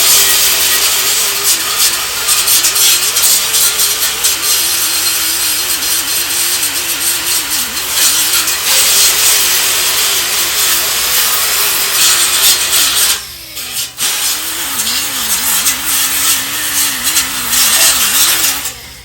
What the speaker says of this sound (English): What I'm gonna do is grind these tacks down.